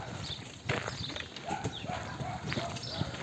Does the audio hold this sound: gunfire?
no